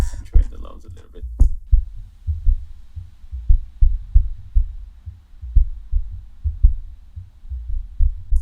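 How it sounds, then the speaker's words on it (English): Low-passed kick drum with deep sub-bass, thumping in a steady repeating beat, dull and rumbling with the upper frequencies filtered away, loud and alone. "you can hear that really low sub-bass frequencies going on"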